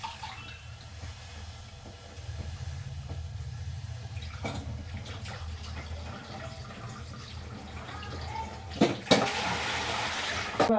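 Gongura leaves being rinsed of sand under running water, with a steady splash and low rumble throughout and a louder burst of gushing near the end.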